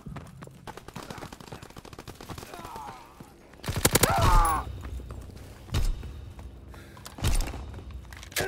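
Heavy gunfire in a video game: a dense crackle of shots builds into a loud, sustained burst, followed by two more heavy volleys over a steady background of battle noise.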